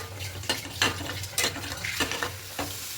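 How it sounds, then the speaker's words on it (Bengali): Grated coconut and sugar stirred continuously in a pan over a medium flame, rhythmic close scraping strokes about every half second over a soft sizzle, no voices. "এবার গ্যাসটা মিডিয়ামে করে দেব দিয়ে এইভাবে অনবরত নাড়তে থাকবো"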